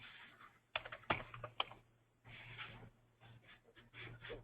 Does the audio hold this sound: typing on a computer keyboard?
yes